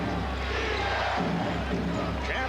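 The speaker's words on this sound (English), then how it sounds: "And a defense from this capacity crowd." A capacity arena crowd roars steadily at a 1996 NBA playoff game, Chicago Bulls at the New York Knicks, forming a dense, loud wash of cheering and babble that continues throughout, with a commentator's voice underneath.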